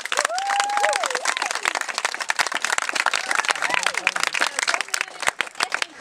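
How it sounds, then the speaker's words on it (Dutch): Audience applause and cheering for the organisers at a Dutch theatre event, a dense, steady wash of hand claps lasting throughout, with voices and a few shouts rising above it. "Dan wil ik even hartelijk applaus"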